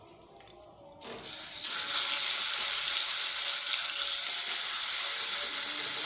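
Fish frying in oil in a pan gives a dense, continuous sizzle that swells in after a short quieter opening with a few clatters, then holds steady and loud up close.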